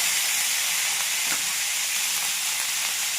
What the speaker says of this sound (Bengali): এদিকে দেখো ফুলকপিগুলো ভাজা হচ্ছে